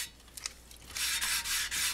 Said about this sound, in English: There's a point at which you can feel the sandpaper cut.